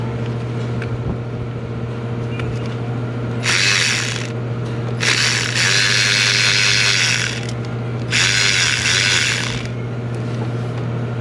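A ratchet driving a Torx bit on the vacuum pump of a 2011 VW Jetta 2.5 turns in three separate bursts of rapid, loud metallic clicking, with quieter shop background between them.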